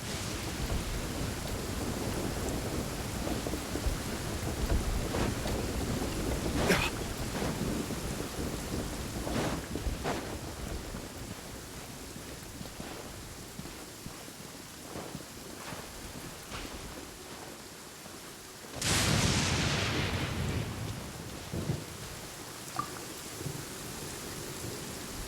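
Steady rain with rolling thunder in the Genshin Impact video game, a continuous downpour broken by several distant rumbles and one loud, close thunderclap near the end.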